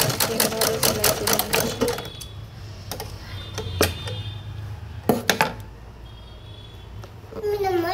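A sewing machine stitching a nightie chatters in quick rhythmic bursts at the start, then stops and starts in short runs amid clicks, with a low steady hum underneath.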